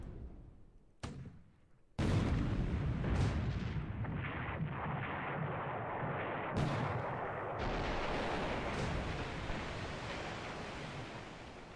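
Naval gunfire and heavy-caliber shell hits in the War in the Pacific game: a couple of sharp early reports, then a loud booming burst that rolls into sustained roaring blasts and rumbling impacts.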